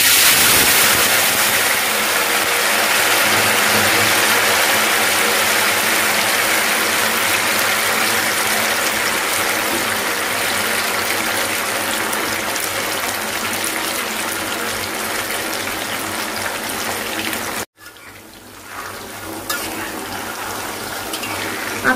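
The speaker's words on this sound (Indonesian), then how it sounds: "Ini teman-teman, kita masukin tahunya." Tofu pieces dropped into very hot oil for crispy fried tofu, giving a loud, steady sizzling hiss that runs for most of the clip before abruptly dropping off near the end.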